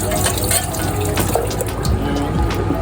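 Water from a can of jackfruit pours out in a steady, close splashing stream that runs unbroken throughout, with no talking.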